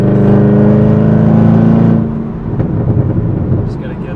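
A Chevrolet Camaro ZL1 cruising in fifth gear gives off a low, buzzy engine drone with strong steady harmonics, loud at first and then easing off to a softer rumble of road noise.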